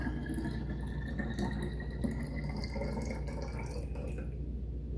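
Kefir water, 24 hours old, poured from one container into another, a steady close liquid splash and trickle running continuously before easing off near the end.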